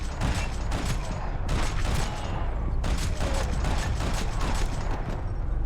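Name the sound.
gunshots in the video game Max Payne 3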